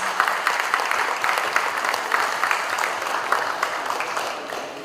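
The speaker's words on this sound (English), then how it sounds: "Once again, ladies and gentlemen, please give an applause" Dinner guests at a World Peace Forum delegation banquet give a steady round of applause, a dense, even wash of many hands clapping throughout, heard on its own without talk.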